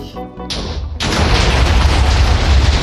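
A loud Minecraft TNT blast in the Nether goes off after a short lull, then a heavy rumbling roar fills the rest of the moment, broad and close with no talking over it.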